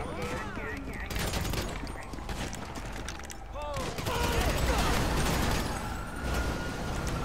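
Police gunfire in a video game, bursts of rapid shots and volleys crackling in the background while a player talks over them.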